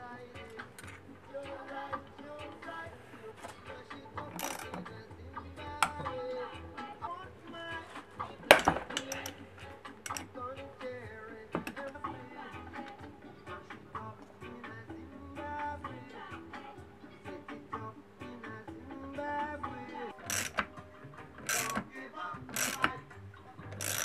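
A small screw is worked loose on an airsoft replica, giving faint, scattered metallic clicks, ticks and light rattles of handling close by over a long quiet stretch.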